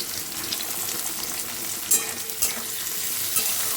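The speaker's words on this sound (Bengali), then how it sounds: "আমি ওই আলুটা ভাজতে ভাজতেই দেখি পেঁয়াজটাও ভাজা হয়ে যায়" Potatoes and onions frying together in oil in a pan, a dense steady sizzle with crackles and a few sharper pops, close and continuous with no talk.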